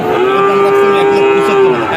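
A heifer lets out one long, loud, steady moo that holds for nearly two seconds, close by, on a cattle farm.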